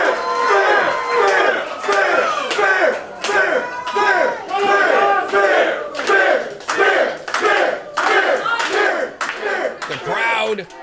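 A college wrestling crowd in College Station cheers and yells in loud, rhythmic bursts, with sharp rhythmic clapping or stomping accents repeating about every second throughout.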